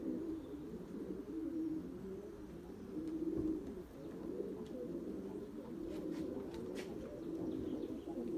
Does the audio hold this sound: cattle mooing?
no